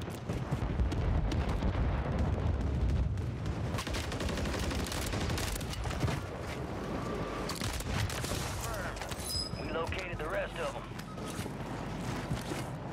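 AN94 rifle fire in the Call of Duty Warzone video game crackles in dense bursts and sustained volleys, with distant battle noise, while someone talks over much of it.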